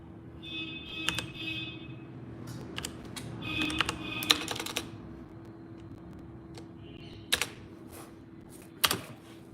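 A computer keyboard is typed on close by in quick irregular bursts of clicks with short pauses, ending with a couple of louder key presses, set against a low steady hum.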